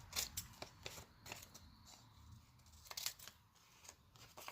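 Scissors snip through a paper template in a quiet workshop, a run of close, crisp cuts with short pauses between them.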